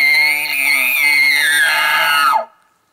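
A person imitates a bull elk bugle scream with a call, a loud, high, whistling tone that holds and then slides downward before cutting off abruptly into silence.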